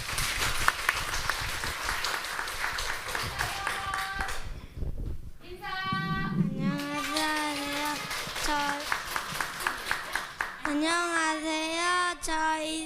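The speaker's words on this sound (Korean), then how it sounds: "우리 박수 한번 할까요?" Church congregation claps at a Thanksgiving Sunday service after a group of kindergarten children recite verses, steady applause running throughout with children's voices and singing-like tones rising over it.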